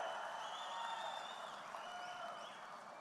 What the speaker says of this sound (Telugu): మీరు నాతో ఏకీభవిస్తున్నామంటే అన్ని పెద్ద నోట్లన్నీ రద్దు చేయాలని గట్టిగా చప్పట్లు కొట్టి హర్షాన్ని,